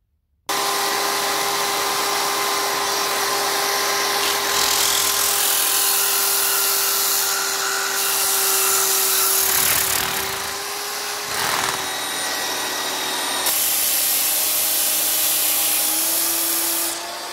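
A power drill fitted with coarse 80 grit sandpaper sands a dumpster-found piece, making a steady, loud whining rasp that runs continuously with a few brief shifts in pitch and pressure.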